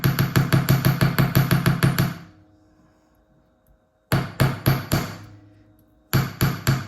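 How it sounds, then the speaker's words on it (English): Hammer tapping wire in a run of quick, even metallic blows while work-hardening a wire-wrapped gemstone bracelet, pausing briefly after two seconds and then resuming in short bursts, close and clear with no talk. "Give everything else a light tap just to get the wire work hardened"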